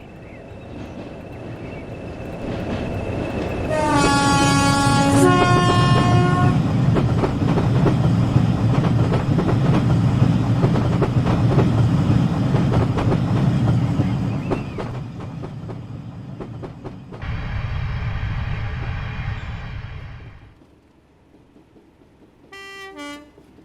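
Locomotive hauling a train past Crete Halt on a simulated line toward Milford, heard approaching with a bright multi-tone horn blast, then a loud sustained rumble and clatter of wagons passing close, fading, with brief horn toots near the end.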